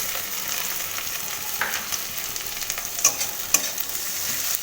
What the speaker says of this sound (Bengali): এবার আমি কেটে রাখা, কুচি কুচি করে কেটে রাখা টমেটোগুলো এর মধ্যে দিয়ে দেব